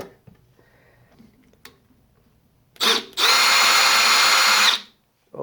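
A Milwaukee power drill whirs: a short burst, then a steady high-pitched spin lasting about a second and a half before it stops, with faint handling noises beforehand.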